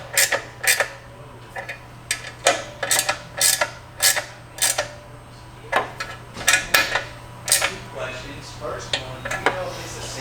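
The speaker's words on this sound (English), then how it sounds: "we can come up here and tighten our muffler saddle bracket to the bike" Wrench and metal hardware clicking and clacking in irregular bursts, close and moderately loud, while a muffler saddle bracket is tightened on a Harley Twin Cam Softail exhaust, with a steady low hum underneath.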